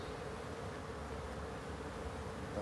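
Honeybees swarm and buzz steadily during a hive transfer from a Langstroth box to a Lens hive, a dense continuous drone with no pauses or voices.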